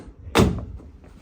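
A heavy car door slams shut on a Ford Sierra Cosworth during reassembly, one loud close thud with a short rattle, then a quiet workshop.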